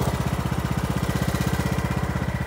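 Craftsman T110 riding lawn mower engine running steadily up close, a loud, rapid, even low chug with no talk over it.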